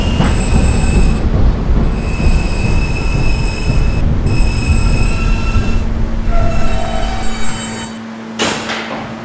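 A B subway train rumbles loudly along the rails with a constant low roar, high-pitched wheel squeals sliding in and out, and a sharp transient near the end.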